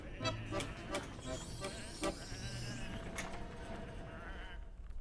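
Sheep bleating in the video game Whateverland, several repeated bleats from a small flock over a steady ambient background, with a character speaking briefly.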